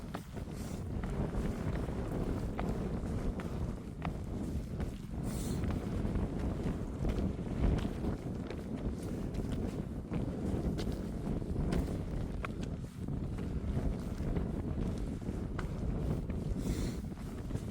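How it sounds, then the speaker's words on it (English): Steady wind roars and buffets the microphone on an exposed mountainside near the summit of Mount Washington, a constant loud rush with gusty swells. "I can't find a spot to get out of the wind"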